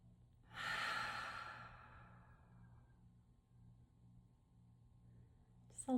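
A single long, breathy exhale through an open mouth, starting strong and fading slowly into quiet.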